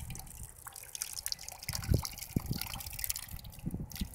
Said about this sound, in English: So there's the water coming through the pipe.